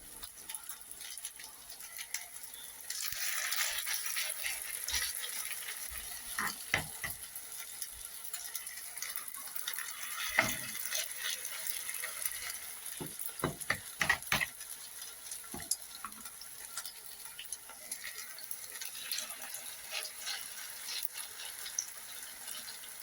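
Homemade meat cutlets fry in a pan with a soft, steady sizzle up close, dotted with intermittent clicks and clatter of utensils, and no talking.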